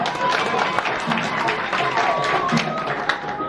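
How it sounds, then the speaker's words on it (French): Wedding guests at a civil marriage ceremony in Garoua clap for the witnesses, a brisk patter of hands filling a hall amid murmuring voices and the sound of people moving. "Parce que même les témoins sont applaudis"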